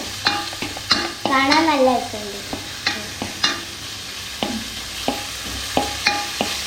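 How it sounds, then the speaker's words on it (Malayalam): Onions frying in a pan for a Thalassery-style dish are stirred with a utensil, giving repeated scraping clinks and a steady sizzle; someone briefly speaks over the cooking. "നമുക്ക് ജസ്റ്റ് ഒന്ന് ഇളക്കാം"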